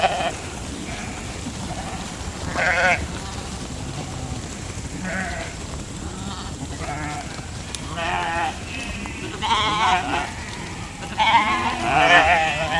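A flock of sheep moves along a fence outdoors, several bleats calling out at intervals, some overlapping, over a steady background of wind and shuffling.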